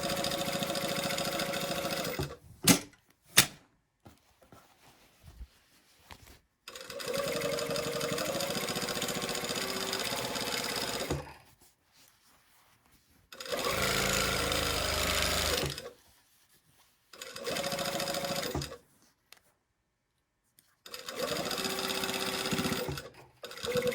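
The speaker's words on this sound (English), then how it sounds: "So now we're going to sew at 5/8 of an inch all the way up" A sewing machine stitches a sleeve underarm seam in several runs of steady whirring, separated by pauses with brief clicks and handling sounds.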